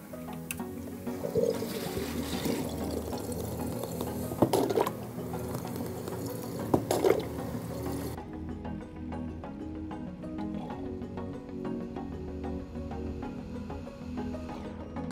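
Coolant trickles and gurgles steadily into the reservoir of a running Digital Storm liquid-cooled PC as the loop cycles, with a continuous watery churn that thins out partway through and no speech.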